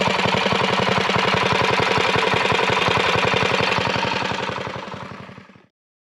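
A mini-bike engine runs close by with a fast, steady putter of rapid firing pulses, then quickly fades away to silence at the end.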